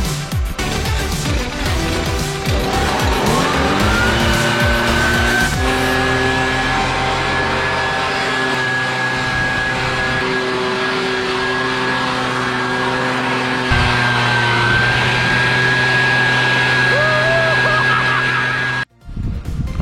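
A handheld air blower blasts dust off a freshly sanded car body ahead of painting, a loud steady roaring hiss with a sustained whine that runs nearly the whole time, then cuts off abruptly near the end.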